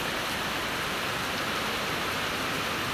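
Steady, dense rain falls and patters on surfaces, a constant even hiss with no let-up or voices.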